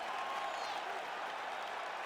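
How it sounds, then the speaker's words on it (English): A UFC arena crowd at the end of a full-distance Nate Diaz versus Paddy Pimblett bout, applauding and cheering as a steady, distant wash of clapping and roar that holds level throughout. "Stand and cheer, ladies and gentlemen."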